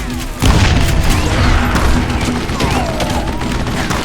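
Gunfire in the Western shooter game Call of Juarez Gunslinger, a loud, sustained volley of overlapping shots and booms under game music, with a voice briefly calling out over the fight.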